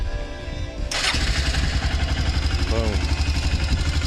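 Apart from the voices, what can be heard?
motorcycle engine starting and idling with the choke on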